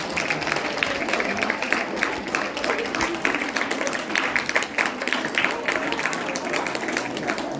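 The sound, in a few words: audience applause for camp head Dhumal sir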